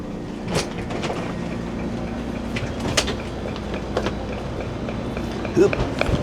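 Rumbling rail carriage noise with clanks and squeals as a train rolls into Gare de l'Est in Paris, steady mechanical hum underneath and occasional sharp metallic knocks.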